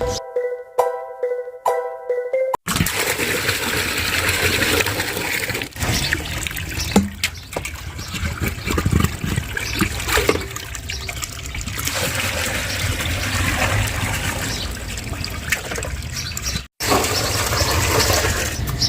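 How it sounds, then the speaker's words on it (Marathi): Ground wheat is mixed by hand with water in a large pot to draw out its starch, giving a steady wet sloshing and trickling after a brief musical opening. "दळलेले गहू आहे ना एका मोठ्या पातेल्यामध्ये टाकले आणि हाताने व्यवस्थित आहे चांगलं मिक्स करून घ्यायचं पाण्यामध्ये पाणी टाकून"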